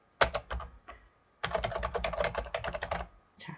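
Typing on a computer keyboard while entering text in CAD software: close, crisp key clicks in a quick run after a few opening taps, pausing briefly before a final short burst.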